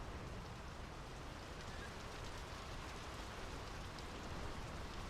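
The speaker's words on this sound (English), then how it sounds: "The rain's picking up." Steady rain falls in the Draugen video game, a dense, even hiss of drops on surfaces that stays loud and unbroken throughout, with no talking over it.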